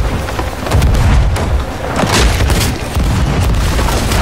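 Cannon shots boom against a wooden ship during a naval battle with skeleton ships in the Sea of Thieves video game, a run of loud, heavy, rumbling thuds and impacts in close succession.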